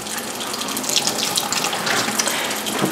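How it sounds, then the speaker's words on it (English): Hot water running from a kitchen tap, poured to melt a snow core sample, gives a continuous close, loud splashing gush with slight fluctuations and no voices. "we're going to melt it with hot water,"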